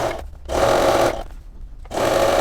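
Sewing machine running in two steady bursts with a short pause between, stitching close along a zipper on a patchwork pillow cover, loud and near with no talk.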